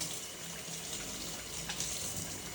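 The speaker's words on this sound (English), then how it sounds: "First thing I'm gonna do is go ahead and wash my hands." Hands being washed under a running kitchen tap, a steady broadband rush of water flowing continuously and fairly loud with small splashy fluctuations, no talking.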